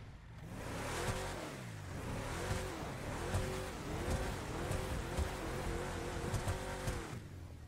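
A Vapid Riata truck's V8 engine revs in a video game, with a deep, muscular growl rising and falling in repeated throttle cycles over several seconds. It is steady and close, with faint tire noise and no speech.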